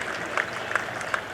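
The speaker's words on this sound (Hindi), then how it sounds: "अगर आप सब जोरदार तालियां बजा देंगे" An audience at an Independence Day programme in Yamunanagar claps for a Punjabi Giddha folk dance performance. The clapping is brief and fairly faint, a scattered crowd sound with a few sharper claps standing out.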